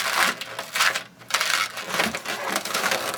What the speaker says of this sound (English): again make this into a pinch twist as well